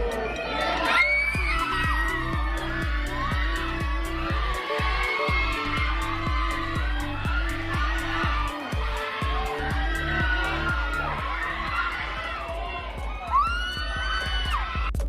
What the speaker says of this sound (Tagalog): talaga namang hiyawan nga ang natanggap nila Donnie at Bel Mariano dito